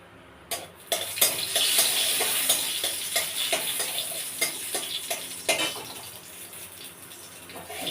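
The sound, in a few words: dried red chillies frying in a pan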